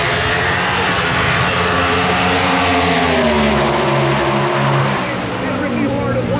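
A Ford Cobra Jet drag racing car in the elimination rounds at the Gatornationals, its engine roaring loudly and steadily as it launches down the strip, with an announcer talking over the noise.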